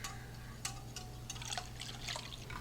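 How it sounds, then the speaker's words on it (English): Room temperature water added to a dessert mixture and stirred: soft drips and splashes with light clinks, faint and close, over a steady low hum. "add 1 cup of room temperature water. And then we're just going to stir that up for about 30 seconds"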